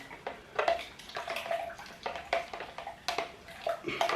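Stirring a lavender mead mixture in a pot gives irregular sloshing and scraping knocks of a spoon against the vessel, close and moderately loud, recurring every half second or so.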